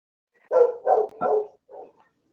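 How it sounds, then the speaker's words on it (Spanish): A small dog barks four times in quick succession, close by, with brief pauses between yelps and no talking. "que se oye el perrito"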